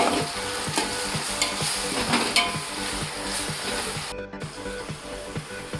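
Ground spice paste stirred into softened tomatoes in a hot pan for mutton biryani: a loud, continuous sizzle runs throughout, broken by rhythmic scraping and clicking strokes of the spoon against the pan.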